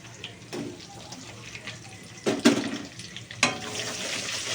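Onions frying in a wok for crispy fried onions for an egg and potato malai curry, a steady moderate sizzle with a few louder bursts and clatters as they are stirred.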